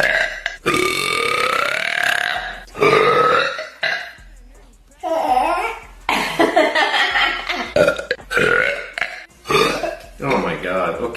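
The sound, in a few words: burp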